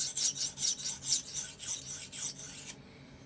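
A steel knife blade drawn in rhythmic strokes across a sharpening stone, about ten close, rasping passes in a steady back-and-forth pattern before stopping abruptly into quiet.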